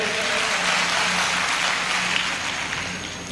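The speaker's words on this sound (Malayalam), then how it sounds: "ഒന്ന് കൈയടിച്ചു കൊടുത്താട്ടെ." An audience at a teachers' training session applauds, a dense, even wash of clapping that stays loud and steady for the whole stretch with no voices over it.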